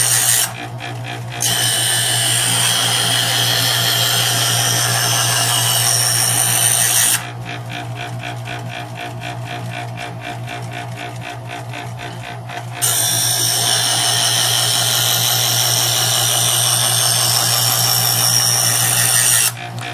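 A Chef'sChoice 120 Diamond Hone electric knife sharpener grinds a hard, high-quality steel knife over a steady motor hum, with loud abrasive passes near the start and end and a quieter buzzing stretch between them.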